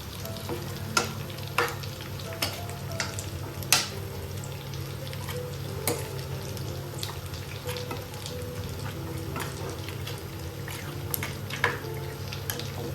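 Fish head being mixed into frying masala, a steady sizzle under frequent light stirring scrapes and taps of a spoon against the pot.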